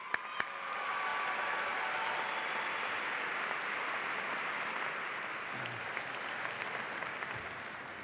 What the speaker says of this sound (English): One more round of applause for our student speakers